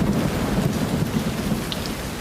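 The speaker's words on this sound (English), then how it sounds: "The storm was spreading all over the towns" Heavy rain pours steadily onto surfaces while low thunder rumbles throughout a thunderstorm; a dense, continuous wash of sound with no voices.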